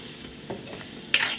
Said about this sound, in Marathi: कांदा हा आता आपण परतून घेऊया